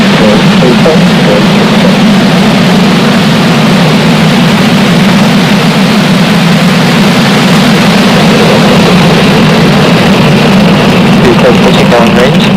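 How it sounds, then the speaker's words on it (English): A SpaceX rocket lifts off as its engines ignite, giving a loud, continuous low roar and rumble that fills the whole stretch, with a voice talking over it. "Ignition and liftoff. Go SpaceX."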